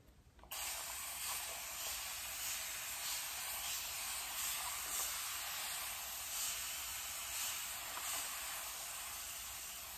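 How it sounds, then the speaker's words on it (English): A spray bottle mists water onto curly hair in a steady, close hiss that starts abruptly and runs on without a break, with faint pulses from repeated trigger pulls. "First things first, my handy dandy spray bottle of water."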